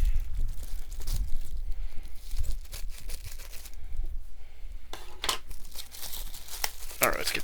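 Plastic packaging is torn open and crumpled by hand during an unboxing, with bursts of crinkling and ripping close by and a person talking over it.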